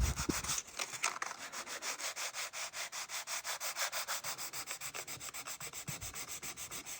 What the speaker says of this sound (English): I'm gonna take that 220 and sand that out and get that rough edge out of it